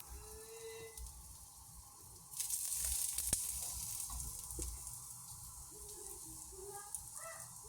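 Garlic dropped into hot cooking oil, a soft hissing sizzle rising suddenly after a quiet start and holding steady, with a few faint clinks of a utensil in the pan.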